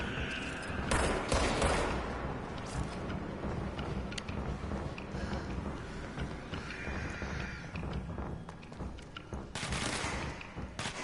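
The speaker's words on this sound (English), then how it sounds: "I can hear gunshots" Gunfire in the video game Control: rapid, dense bursts of shots, with heavier volleys near the start and end, over constant game noise.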